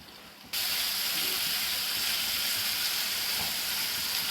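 Chicken tikka fries in a pan as its water cooks off, giving a loud, steady sizzling hiss that starts abruptly after a quiet moment and continues evenly throughout.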